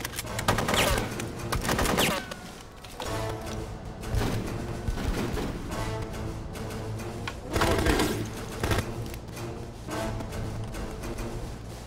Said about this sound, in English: Yeah, now taking fire.